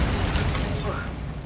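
A Bombarda spell blast erupts in Hogwarts Legacy, a loud, dense boom that swells at once and rumbles off over a second and a half.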